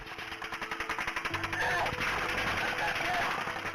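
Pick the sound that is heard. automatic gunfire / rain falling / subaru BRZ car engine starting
automatic gunfire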